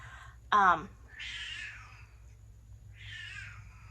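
A cat lets out one loud, sharp meow, then two softer, drawn-out cries follow with pauses between them.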